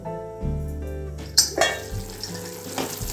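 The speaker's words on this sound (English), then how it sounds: "So now let us cook the tomatoes till they become mushy and smooth." Tomatoes cooking in a kadai give a soft sizzle and frying hiss, with a few clinks of a utensil against the pan partway through, near and fairly quiet, no talking.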